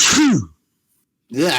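Two loud, close sneezes separated by a brief silence, each a sharp burst; a voice speaks briefly.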